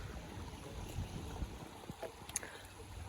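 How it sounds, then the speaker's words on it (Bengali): A small boat crosses a canal. Quiet, low water wash and gurgling sit under faint wind, with a couple of light knocks and no talking. "এই পার থেকে এই পারে যাওয়ার জন্য এই নৌকাতে উঠেছি"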